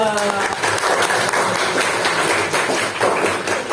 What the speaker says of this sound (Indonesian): kita berikan tepuk tangan untuk kelompok 1 dan kelompok 2